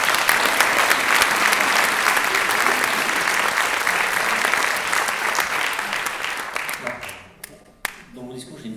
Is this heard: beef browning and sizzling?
no